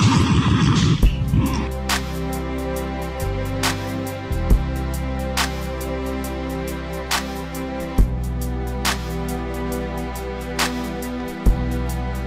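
A horse neighs loudly at the very start, followed by a steady tonal background marked by regular sharp clicks through the rest of the stretch, with no speech.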